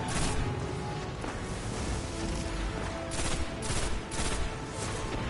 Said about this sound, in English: I'm shooting one right now